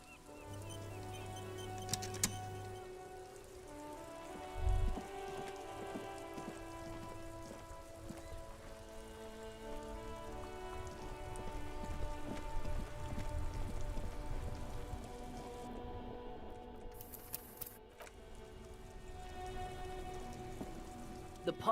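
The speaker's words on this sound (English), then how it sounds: "This rain will not let up anytime soon." Persistent rainfall in the video game Disco Elysium, a soft constant patter mixed with droning tones and a few brief thuds, fairly quiet throughout and free of speech.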